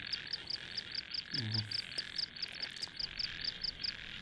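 Frogs croak in a night field during frog trapping, one low croak standing out close by over a steady, rapid chorus of insects or frogs pulsing throughout.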